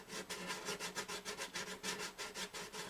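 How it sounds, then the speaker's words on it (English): Sandpaper rubbing back and forth over the wood of a Gibson J40 acoustic guitar, a steady rhythmic scratching of about a dozen close strokes with no talk. "Let me find a new piece of sandpaper here, a new place."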